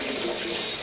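Tap water runs steadily into a bathtub, a continuous close hiss and rush of filling water with no break.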